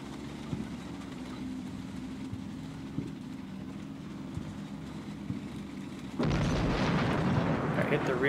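Artillery shells land near a rear base in Combat Mission: Shock Force. A dull, rumbling barrage with scattered thumps builds into a loud, sustained blast of explosions over the last two seconds.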